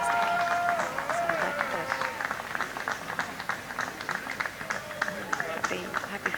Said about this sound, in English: happy fans in the crowd there